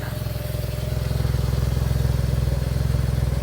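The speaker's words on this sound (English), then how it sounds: "I'm going to put my foot on the throttle." A Smart ForTwo engine, suspected of gearbox failure, revs steadily under throttle while stationary, a loud continuous rhythmic drone with a fine rapid chattering pulse running through it.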